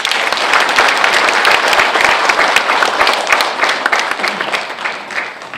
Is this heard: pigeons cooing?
no